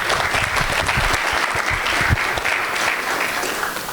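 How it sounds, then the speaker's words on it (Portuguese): Audience applause at a strategic planning presentation for the Itaipu technology park, a full, continuous round of clapping from a crowded room at steady intensity throughout. "Palmas, gente, vamos!"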